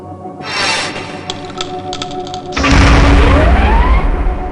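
Detonator core grenade thrown at a hologram target in Half-Life: Gunman Chronicles, a quiet rattling lead-in followed by one loud, deep explosive boom that rumbles on with a falling whistle.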